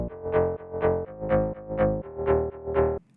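An extra synth bass layer for a progressive house track plays as a pulsing, distorted tone in even rhythmic swells, about six repeats, loud and alone before it cuts off abruptly.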